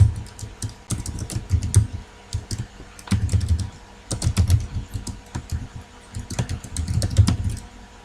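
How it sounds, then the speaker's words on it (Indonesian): Code being typed on a computer keyboard, close and fairly loud, with irregular clusters of key clicks separated by short pauses, over a faint fan hum. "kelas saya ketikkan dulu kodenya"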